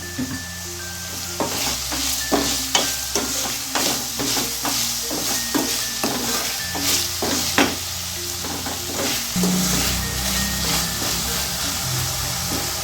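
Vegetables with salt sauté loudly in a pan for veg kurma, a continuous sizzle broken by repeated scraping and stirring strokes from a spoon, close and without speech.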